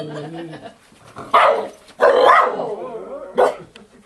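A dog barks loudly and close in several separate bursts while reacting to a person during animal training, with a person talking quietly before the barks and in the pauses between them.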